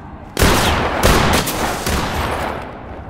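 Several sharp pistol shots in the tactical shooter Ready or Not, a few loud close cracks in quick succession with echoing tails, one dominant burst followed by fainter reports.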